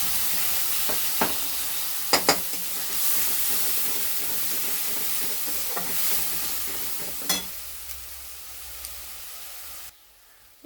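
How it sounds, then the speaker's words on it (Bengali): Ground spice paste sizzles loudly in hot oil, a continuous hiss broken by a few sharp spatters and stirring clicks, cutting off abruptly near the end. "আর এই বেটে রাখা মশলাটা তেলে দিয়ে দিচ্ছি"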